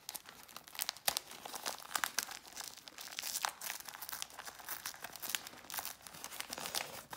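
Rectangular advent calendar box being opened by hand, with steady crinkling and tearing of wrapping paper, close and continuous throughout, with no talking.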